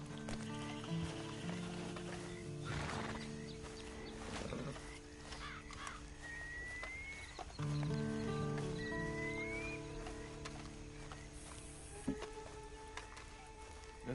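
Horse hooves clip-clop in the Western video game Red Dead Redemption 2, soft irregular thuds set under a steady musical drone, with a few brief whinny-like calls rising over the ambience.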